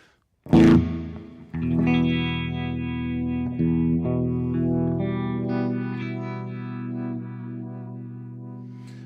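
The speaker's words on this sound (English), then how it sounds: "We got this vibrato going on, backwards and forwards panning there, it sounds like." Electric guitar played through the OVERLOUD TH-U amp simulator, chords ringing with a wobbling vibrato and a panning effect sweeping back and forth, starting with a sharp strum and sustaining steadily without any talk.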